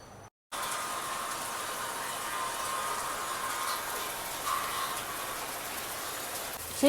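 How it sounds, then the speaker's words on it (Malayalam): Heavy rain pours down in a steady, dense broadband hiss that begins abruptly after a brief silence and holds at an even, fairly loud level, with no voices. "എന്തൊരു മഴ"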